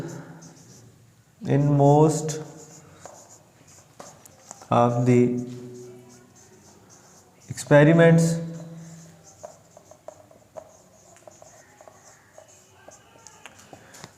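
Pen scratching out an answer on paper during a Class 9 physics lesson, three short bursts of writing strokes, close and fairly loud, separated by quiet pauses with faint background sounds.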